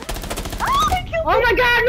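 Rapid gunfire in Rainbow Six Siege, a dense burst of shots running under excited shouting throughout the short moment.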